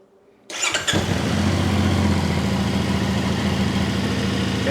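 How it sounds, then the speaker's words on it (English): Moto Morini Vettore 450 motorcycle engine cranking and catching after a short quiet moment, then settling into a steady, even idle close by. "let's go ahead and start the bike"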